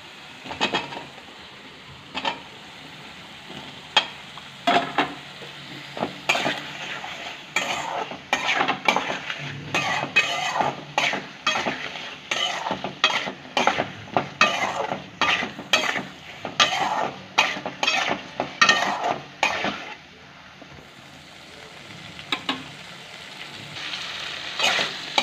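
Fried potatoes and peas being stirred into sizzling, oil-released masala in a pan for aloo dum, with steady frying sizzle and repeated scraping and clinking strokes of the spatula, close and fairly loud, with no talking.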